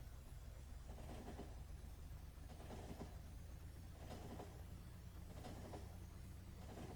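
A train in the video game Factorio rolls along its rails, a low steady rumble with a faint rhythmic clatter repeating about once a second, quiet and alone.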